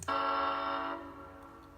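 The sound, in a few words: model locomotive train horn ending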